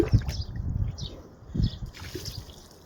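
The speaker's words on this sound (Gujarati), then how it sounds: "ઉપર પાણી નાખીએ" Water splashes and trickles in uneven bursts, close by, with a soft pouring gush now and then and no voices, as water is poured over buffaloes being bathed in hot weather.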